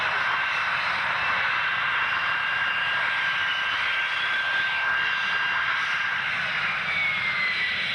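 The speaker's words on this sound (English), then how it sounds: "they'll be doing a simultaneous takeoff all at the same time" Harrier GR3 jets of 3(F) Squadron RAF at Gutersloh making a simultaneous takeoff, a loud continuous jet roar with a steady high whine running the whole way through, close and unbroken, with no speech.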